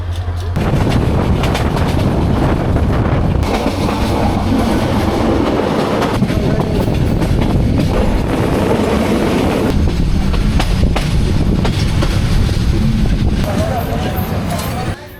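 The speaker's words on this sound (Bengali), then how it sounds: "এইমাত্র ব্রাহ্মণবাড়িয়া রেলওয়ে স্টেশনে এসে প্রবেশ করলো উপকূল এক্সপ্রেস ট্রেন" The Upokul Express train rolls into Brahmanbaria railway station, loud and close, with steady rumbling wheels and clattering wagons throughout, punctuated by sharp metallic knocks over the railway yard's noise.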